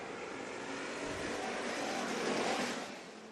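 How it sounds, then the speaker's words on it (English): American stock cars racing at Bakersfield Speedway at Kevin Harvick's Kern Raceway, a pack of engines roaring past in a broad rising and fading drone, swelling near the middle and easing off at the end. "racing American stocks at Bakersfield Speedway"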